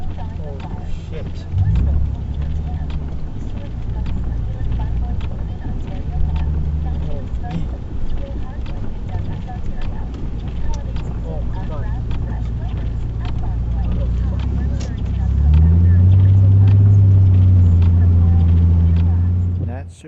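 Nissan 300ZX rear-wheel drive car driving through a blizzard, heard from inside as a low engine drone with road and wind rumble, swelling into a heavier, louder engine note toward the end, with a person talking over it.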